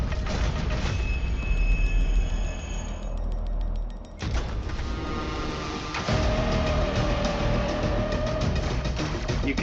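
A train in a first-person video game with vehicles and spy planes: steady rolling rumble and clatter with squealing metallic tones, a sharp break midway, then the rumble resumes under a rising whine.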